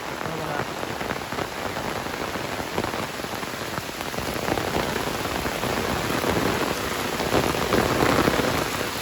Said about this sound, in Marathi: मोठं पावसाचं आगमन झालेला जोरदार कडक येतो